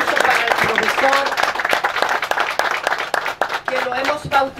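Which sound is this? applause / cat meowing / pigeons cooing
applause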